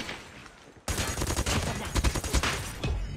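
Gunfire in a shooter video game begins after a short quieter lead-in, then bursts into rapid, dense automatic shots that continue loudly to the end.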